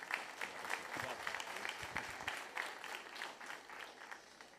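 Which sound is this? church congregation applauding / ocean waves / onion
church congregation applauding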